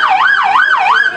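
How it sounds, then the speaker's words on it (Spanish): A loud, close ambulance siren wails up and down in a smooth repeating cycle, rising and falling about every half second, with no voices. "Venga, hágase un lado, viene la ambulancia."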